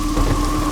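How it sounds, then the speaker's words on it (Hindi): Heavy rain pours in a dense, constant hiss with a low, rolling rumble underneath, loud and close, in a short unbroken burst with no voices. "इतनी बारिश क्यों हो रही है?"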